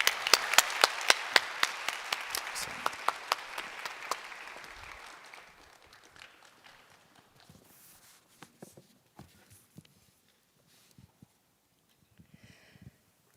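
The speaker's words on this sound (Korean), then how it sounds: "우리 박수로 맞이해 주시길 바랍니다" A church congregation at a Christmas service applauds to welcome a speaker, a brisk burst of many clapping hands that thins and fades within seconds, followed by scattered single claps, footsteps and light shuffling in a quiet hall.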